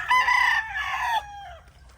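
A molting bullstag rooster lets out a single close, loud crow that rises, holds and trails off in about a second and a half.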